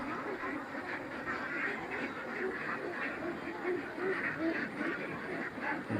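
Many ducks quack in a dense, overlapping chorus nearby on a backyard farm, continuous throughout, with a voice faintly audible underneath.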